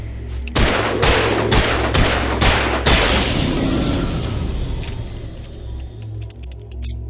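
Gunfire in the video game Alan Wake, a rapid series of about seven loud, close, sharp shots with echoing tails, followed by fainter metallic clicks and rattles.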